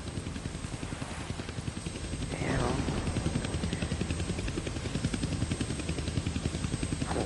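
A helicopter from a Deadpool episode thrums steadily with rapid rotor chop throughout, growing slightly louder midway, with speech heard over the engine noise.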